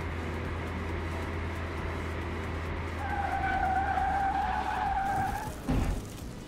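Car driving and skidding in Car Mechanic Simulator 2021, an electric car under hard acceleration: a steady engine-like drone with a rising tire squeal lasting a couple of seconds, then a brief thump.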